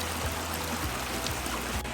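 Water flows steadily downstream from a freshly cleared dam on rural land, a continuous close rushing and trickling with no talk.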